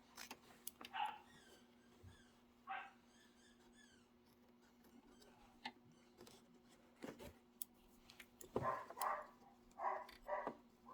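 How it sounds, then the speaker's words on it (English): Dogs barking in short, scattered bursts, fairly faint and a little distant, with long quiet gaps and a low steady hum underneath. "My dogs love to bark."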